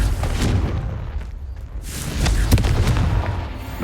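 A Confringo blasting spell going off in Hogwarts Legacy, with loud booming blasts and rumbling impacts over heavy game combat noise, one sharp hit standing out midway.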